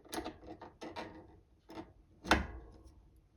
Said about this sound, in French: je vais venir serrer ce contre-écrou contre pour ensuite desserrer la cuvette fixe